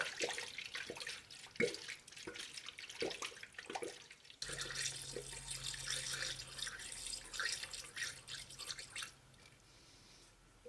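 Coolant glugs and trickles from a jug into a funnel on a 2003-2007 Honda Accord radiator, a close, steady liquid pour with dripping splashes throughout.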